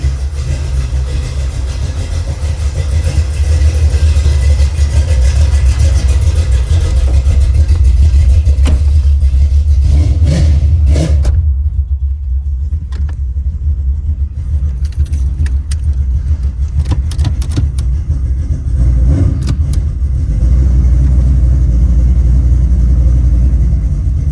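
A 1984 Chevrolet Monte Carlo with a mid-range V8 cruising down a highway, its steady engine drone and road noise continuous and loud from inside the cabin, with no talking.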